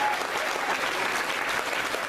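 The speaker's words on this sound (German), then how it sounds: "Applaus." Concert audience applauding after a rock-and-roll band performs a song, a dense, steady wash of many hands clapping at even loudness throughout, with no voices standing out.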